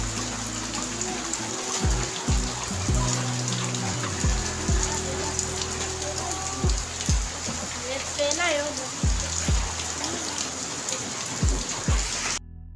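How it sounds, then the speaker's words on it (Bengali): Heavy rain pours steadily on surfaces, a dense continuous hiss with scattered drips and knocks nearby, and no talking over it. "আর বৃষ্টি তো একইভাবেই হয়ে চলেছে"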